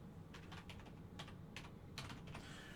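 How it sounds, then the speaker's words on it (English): Quiet, close keystrokes as a new password is entered on a computer keyboard during Raspberry Pi setup, several short clicks in uneven bursts over a soft background. "So we're going to type in a new password."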